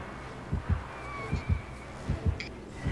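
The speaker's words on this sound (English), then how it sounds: "Oh, heartbeat." Heartbeat effect from a multiplayer video game, a series of soft low thumps in paired beats repeating steadily at moderate volume, with faint game tones in the background and no talk.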